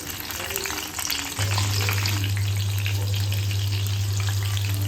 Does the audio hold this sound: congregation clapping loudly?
no